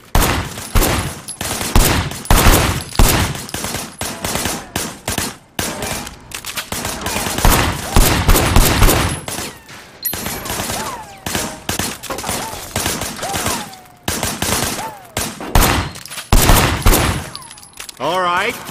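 Gunfire in the Sleeping Dogs video game, with dense bursts of shots rattling through the whole stretch at close range, interspersed with game effects and occasional voices.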